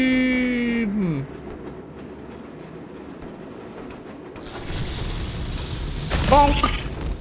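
Train rolling through a grimy, musty underground section of the Black Mesa research facility in the video game Black Mesa, a steady low rumble building toward a louder clattering passage near the end, with no talk over it.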